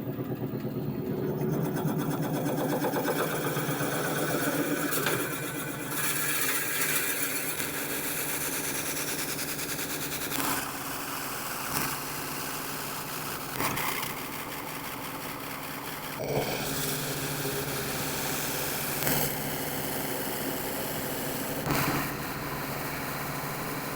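Lathe hollowing out a large elm vase, a steady mechanical hum with a tool scraping the wood and a few sharper catches along the way, no talk.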